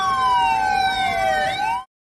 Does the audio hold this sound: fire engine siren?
yes